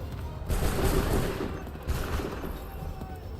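Musket volley in Assassin's Creed 3, two broad crackling bursts of massed fire about a second and a half apart, rolling and moderately loud against battlefield background.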